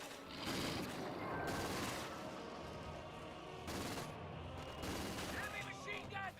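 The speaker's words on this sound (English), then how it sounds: "MG42 reloading, hitting the universal carrier now" MG42 machine gun fire in the WWII strategy game Company of Heroes 2, with dense bursts of automatic gunfire and battle noise throughout and a few louder swells.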